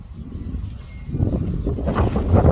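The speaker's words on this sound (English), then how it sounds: "Windy out today." Wind gusts across a farm barnyard, rushing and buffeting close to the microphone and swelling stronger toward the end, with no other clear sounds over it.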